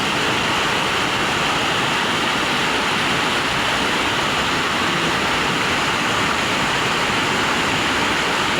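Floodwater rushing across a small provincial farm after Typhoon Uwan, a steady, loud, broadband roar of churning water that holds unbroken and near throughout, with no voices over it.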